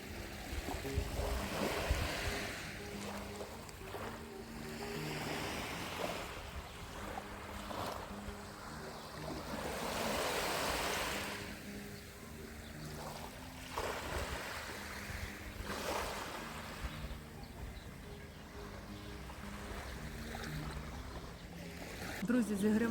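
Steady washing of Black Sea waves at Lanzheron beach in Odesa at dawn, broad surges rising and falling, with people talking intermittently over the surf.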